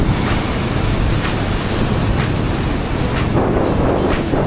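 Ocean surf breaking on the coast at Quobba Station, a loud continuous roar of crashing waves with gusting wind across the microphone and no voices.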